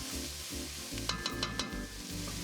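Chopped mirepoix vegetables sizzling in two tablespoons of olive oil in a soup pot, a steady close frying hiss with a few sharp stirring clicks partway through.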